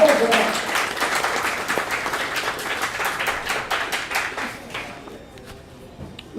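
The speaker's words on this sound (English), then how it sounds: "We got a raucous crowd here." A crowd at a bowling alley claps and cheers loudly during a doubles tournament, the applause fading out after about five seconds with a voice faintly under it.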